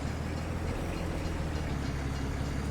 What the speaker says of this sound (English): Yeah, and there's the train.